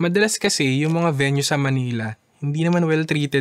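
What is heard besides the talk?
No everyday noises stand out.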